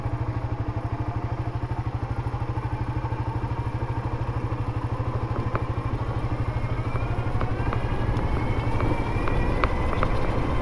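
A motorcycle descends a steep hill road, its engine thumping in a steady low rhythm close to the microphone, with a rattle that grows slightly louder toward the end.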